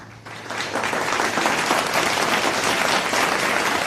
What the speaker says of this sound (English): Let's applaud for Ms.